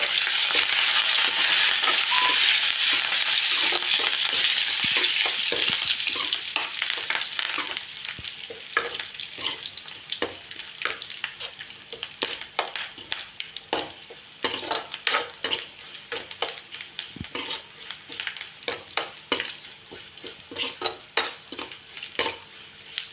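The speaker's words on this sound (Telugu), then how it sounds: "ఇదిగోండి కరివేపాకు కూడా అయితే వేగిపోయింది" Curry leaves and cumin sizzle and fry in oil in a pan, a bright steady hiss at first that thins into crackles and pops while a spoon stirs and clinks against the metal.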